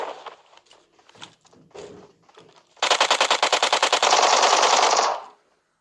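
Video game gunfire: a long, rapid, loud burst of automatic shots that cuts off abruptly, preceded by quieter clicks and movement sounds.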